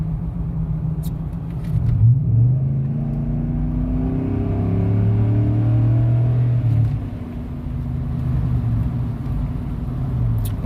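Exhaust from a 2010 Chevy Silverado with the 5.3-litre LC9 V8 and a Magnaflow 14419 third-cat delete, heard while driving: a steady deep rumble that rises as the truck accelerates, then settles back to a lower drone.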